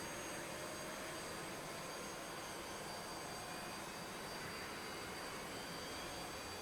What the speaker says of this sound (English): I want to make sure you guys can hear the actual aircraft starting up